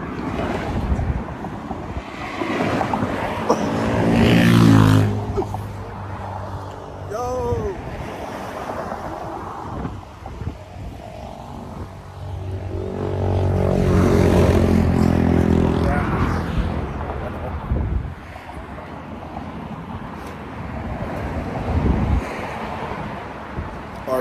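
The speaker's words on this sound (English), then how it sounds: "We in Malibu right now. The ocean side over there." Ocean waves wash up at the seaside in Malibu in two big surging roars with quieter stretches between, mixed with wind buffeting the microphone and intermittent voices nearby.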